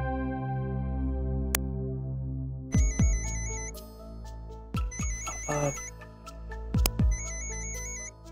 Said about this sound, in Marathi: जान्हवी बाबांचा फोन येतोय